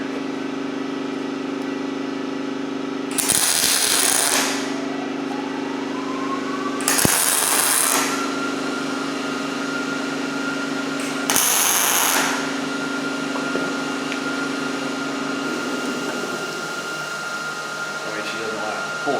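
A Miller Millermatic 211 MIG welder lays three short tack welds, each a brief crackling hiss lasting about a second, separated by a steady machine hum in a shop.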